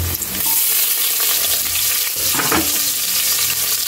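Onion hits hot oil in a pan for a Filipino carabao soup dish, giving a loud, steady, close sizzle with a brief stirring scrape partway through, no talking.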